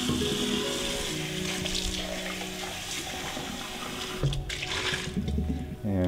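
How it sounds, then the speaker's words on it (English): Tap water runs steadily while two milk pitchers are rinsed after latte making. The flow is fairly close, with splashing that shifts near the end and a few knocks from the pitchers. No voices are heard. "at this point, I'm gonna rinse my two pitchers."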